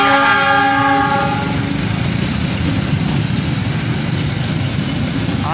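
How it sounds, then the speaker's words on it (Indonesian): A train horn blares with a sustained chord at the start, then gives way to the loud, steady rumble of rail cars rolling past close by, at Cikarang station, Indonesia. "Kereta merah putih."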